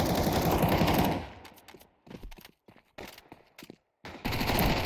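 MAC-10 submachine gun fire in the video game Counter-Strike 2, with a loud continuous rapid-fire burst followed by several short choppy bursts separated by gaps, then another sustained burst.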